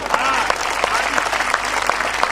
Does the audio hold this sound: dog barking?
no